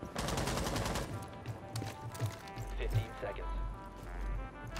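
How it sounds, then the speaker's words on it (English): Bursts of rapid gunfire from the Rainbow Six Siege video game crackle through the opening seconds, then thin out to scattered shots and game noise while a player talks over it. "apparently our fucking Callie lost a gunfight somehow"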